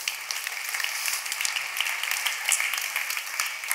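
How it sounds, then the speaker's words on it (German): Audience applause at the 2019 triathlon awards ceremony, a steady, fairly faint wash of many hands clapping that holds evenly throughout without voices on top. "das ist nochmal der Applaus"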